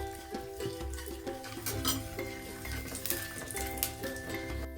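Whole cloves and cinnamon sticks frying in hot oil in a pan for a cauliflower roast, with a steady low sizzle under repeated light clinks and scrapes of a spoon stirring against the metal.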